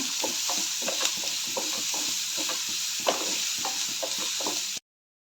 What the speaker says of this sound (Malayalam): അതിനെയും കൂടെ ഇട്ടൊന്ന് വഴറ്റി കൊടുക്കണം. നല്ല ഗോൾഡൻ ബ്രൗൺ കളർ വരെ വഴറ്റിക്കൊണ്ടിരിക്കണം.